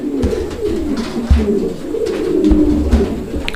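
Pigeons coo close by in a loose rhythmic series of low throaty calls, loud and steady with faint background noise and no talk.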